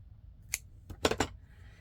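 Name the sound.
cutting pink thread for junk journal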